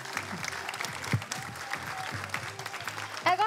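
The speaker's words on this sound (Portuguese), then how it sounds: "Uma salva de palmas." Audience applause at the Miss Teen Portugal 2020 gala final pageant: a steady round of clapping from the crowd, with a host's voice speaking over it and rising near the end.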